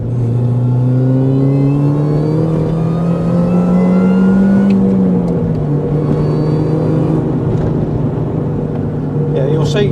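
A modified Mini R53 pulls hard in second gear, its engine note rising steadily and loud from inside the cabin, with a brief dip around a shift before it settles into a sustained drone.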